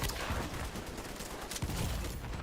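Gunfire in the video game The Division 2: a dense, loud, continuous volley of overlapping shots with no pause across the short stretch.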